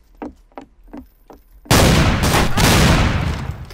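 Shotgun fire in a video game, a sudden loud blast that cuts in after a few quiet taps and rings on as a dense, sustained roar of gunfire to the end.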